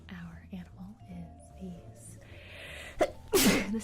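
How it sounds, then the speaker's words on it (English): A single loud sneeze bursts out near the end, following a soft breathy build-up with quiet voices murmuring beforehand. "I have to sneeze."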